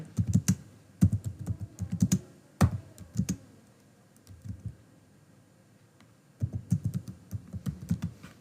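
Typing on a computer keyboard while writing HTML list code: bursts of quick, close clicking keystrokes in several runs separated by short pauses, with no talk.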